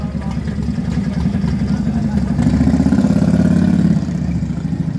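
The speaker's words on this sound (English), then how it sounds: "Bumped into Rev Bomb on his Harley" A Harley motorcycle engine idles close by in a steady low rumble that swells briefly in the middle, heard outside a busy roadside cafe.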